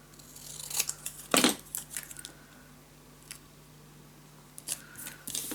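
Scissors snip paper for a handmade mini scrapbook album, a few short crisp cuts in quick clusters separated by quiet pauses, close up and fairly soft.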